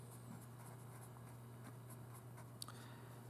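A pen or pencil sketches a crude graph by hand, soft steady scratching strokes against a faint constant hum, with one small tap near the end.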